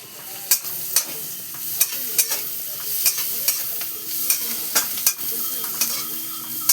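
Chopped onion and torn bay leaf with black cardamom fry steadily in a pan. Under the hiss, a spoon scrapes and stirs in short regular strokes about every half second, close and moderately loud, with no voices.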